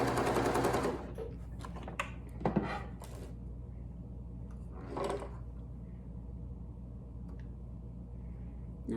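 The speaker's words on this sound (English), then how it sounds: "Now I'm just stitching in white, just so you all can see this on the video." A home sewing machine stitching a fabric neck gaiter mask in white thread, a loud close burst of rapid mechanical clatter at the start, then short sporadic stitching bursts with pauses over quiet room hum.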